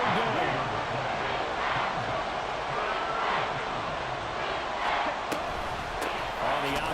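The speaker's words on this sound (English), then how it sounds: "The Arrowhead crowd in full roar." A packed crowd roars at Arrowhead Stadium during an American football game, a loud, sustained wall of cheering with a play-by-play commentator's voice over it.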